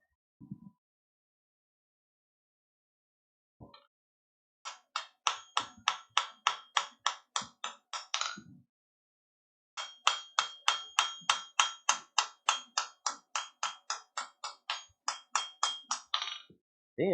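A ball peen hammer texturing heated metal: two bursts of rapid, evenly spaced sharp taps, about a dozen strikes each, separated by a short pause, close and alone.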